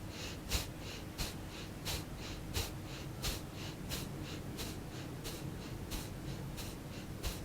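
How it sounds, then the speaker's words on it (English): Close, rhythmic breathing during Kundalini yoga shoulder shrugs, sharp audible inhales and exhales repeating about every 0.7 seconds, picked up by a sensitive nearby mic over a soft background. "The mic I'm using is quite sensitive, so you probably hear my breathing."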